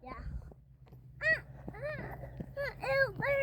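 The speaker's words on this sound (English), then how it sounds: "Yeah, there is a bird over there." A bird, likely a crow, caws outdoors in a series of harsh repeated calls at moderate distance during a walk in Oregon, with talking alongside.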